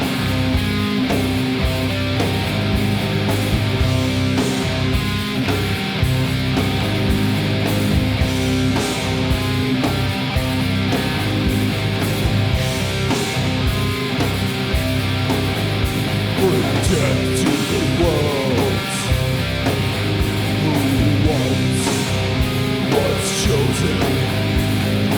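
Heavy metal from a new EP, a dense, loud full-band wall of distorted guitars, bass and pounding drums that runs without a break, with no voices over it.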